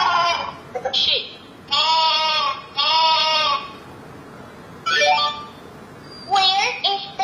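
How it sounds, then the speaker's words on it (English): Electronic sheep bleats from a children's talking picture book, a toy's recorded voice with a slightly tinny tone, sounding in about five short bursts separated by brief pauses. "sheep."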